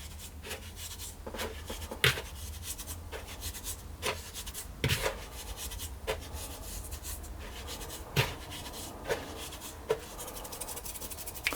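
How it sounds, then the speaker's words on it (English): Lemon zest being rubbed into sugar by hand in a large bowl, a soft continuous scratchy rubbing with faint irregular taps, close and quiet. "I'm just going to rub that into the sugar a little bit."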